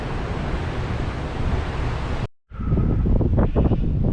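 Strong gusting wind off the sea at Port Lincoln roars into the microphone as loud, broadband buffeting, cutting out briefly midway before surging back just as hard.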